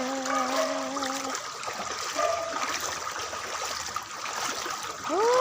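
Rainwater streams during the rainy season in Hai Phong, a steady rushing trickle of flowing water with a few brief tonal whines rising over it.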